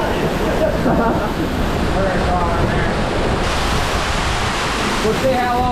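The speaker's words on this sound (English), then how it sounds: "that's a big waterfall, isn't it?" A big forest waterfall roars as one steady, loud wash of falling water, with strong wind buffeting the microphone throughout. No clear talking stands out.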